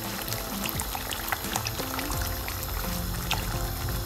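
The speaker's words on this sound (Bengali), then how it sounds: "এখন হচ্ছে আমি ক্রিম দিয়ে দিচ্ছি।" Cream is poured into a thickened butter chicken curry in a pan, a steady close liquid pour running throughout with faint bubbling texture underneath.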